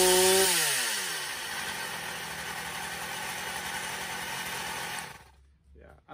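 A Stihl MS250 chainsaw running poorly, its engine droning loud and close with a rough, uneven tone for several seconds before cutting out abruptly, leaving near silence.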